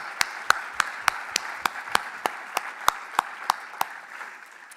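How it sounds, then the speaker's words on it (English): Sparse, evenly spaced claps ring out at a community gathering, roughly one sharp hand clap every third of a second over a quiet room tone, moderately near and thinning toward the end. "can we just give them a round of applause for their generosity for a moment?"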